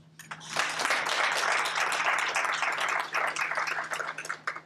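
A lecture audience applauds to welcome a speaker. Many hands clap in a steady, fairly loud burst that lasts about four seconds before tapering off.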